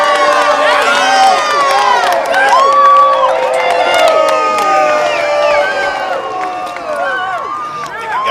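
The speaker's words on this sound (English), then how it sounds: "Let's get a cheer for our winner, Arthur!" A lively crowd at a Western-style contest cheers and whoops for the winner, with shouts and excited voices overlapping continuously and loudly throughout.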